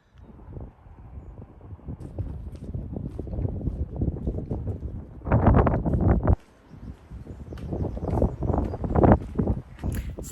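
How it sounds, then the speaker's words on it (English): Wind buffets the microphone in steady rumbling gusts on a morning in Northumberland, with a louder blast midway before it settles into continued blustery noise. "It's actually pretty windy this morning."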